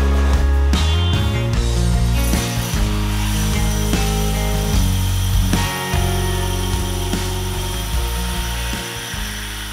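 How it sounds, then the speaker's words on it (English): A power grinder works the edge of a stainless steel exhaust collector for a Datsun 280z, a loud, continuous whining grind close by that wavers in pitch as the tool bites into the metal. "grind down this edge right here, which is going to angle down the collector a little bit"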